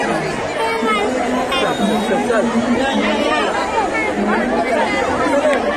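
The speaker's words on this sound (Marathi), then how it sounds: "गर्दी खूप प्रचंड प्रचंड प्रचंड आहे" Dense crowd chatter at the Pune Ganesh festival near a temple pandal, a loud, continuous babble of many overlapping voices close around the listener.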